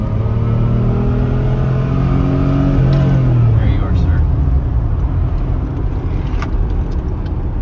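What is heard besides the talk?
1988 Fiero GT 5-speed car accelerating in second gear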